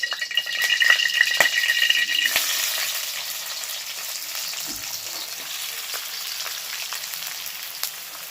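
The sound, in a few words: onions frying in oil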